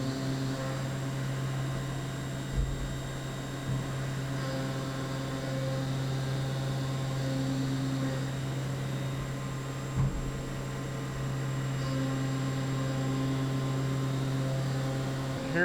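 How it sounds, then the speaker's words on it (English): A CNC machine spindle runs at full speed while cutting a part, producing a steady, moderately quiet tonal hum with a constant drone and a couple of brief knocks, no voices. "Spindle goes back up to full speed. And then we are cutting the next part."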